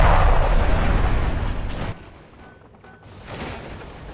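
A Hummer M1038 anti-aircraft vehicle blowing up in the tank game Clash of Panzer: a loud booming explosion that decays over about two seconds, followed by quieter rumbling debris and a faint swell.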